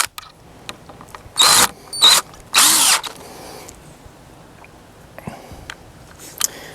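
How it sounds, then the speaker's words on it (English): A power drill drives lag bolts into a deck stair handrail in three loud, close bursts of a second or less each, with quieter handling noises between and after. "Now it's just a question of driving the lag bolts into the handrail."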